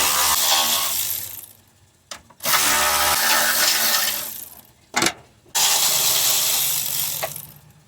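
A power ratchet spins off 10mm bolts from the battery bracket of a Honda Accord, with three loud whirring bursts separated by short gaps, close to the listener.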